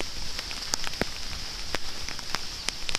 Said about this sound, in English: it's not too bad right now, just a lot of rain really